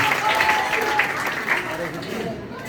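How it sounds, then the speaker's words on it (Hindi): An audience at a public gathering applauds a child, a dense sustained clapping that carries through the whole moment at moderate loudness, with some voices mixed in. "ये जोरदार ताली बजाइए बच्चे के लिए।"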